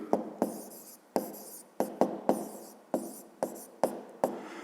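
A pen writes answers into a notebook, giving about nine short, distinct scratching strokes at an uneven pace in a quiet room.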